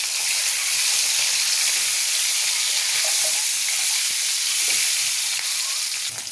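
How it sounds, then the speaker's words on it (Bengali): Oil hissing and sizzling steadily in a hot wok as eggs fry for an egg curry, a dense continuous crackle with faint clinks, close and fairly loud, no talking. "কড়াইয়ে তেল দিয়ে দিয়েছি, ডিমগুলো দিয়ে দেবো।"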